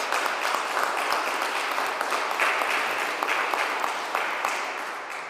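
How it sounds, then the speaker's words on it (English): An audience applauds generous lead donors at a governor's update on Arkansas's statues, making a sustained, even round of clapping from a sizable crowd that tapers off slightly at the end. "Please give all of those generous lead donors a round of applause."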